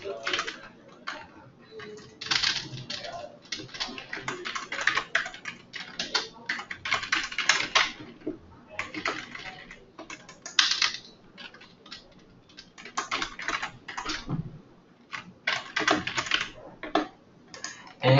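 Rapid keyboard typing on a computer while erasing code, in irregular bursts of close clicks and pauses, with no talk.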